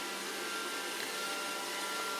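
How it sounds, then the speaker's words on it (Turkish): An iRobot Roomba 560 robot vacuum cleaner runs with a steady, even whirring hiss that holds constant throughout, close by and fairly loud with no voices. "Günlerdir internetten araştırıp satın aldığım robot süpürge."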